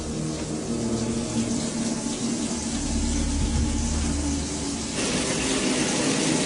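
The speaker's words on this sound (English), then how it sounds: "the sound of running water can be heard from the kitchen sink" Water runs steadily from a tap into a sink, a continuous hiss and splash that grows slightly brighter near the end, with no voices.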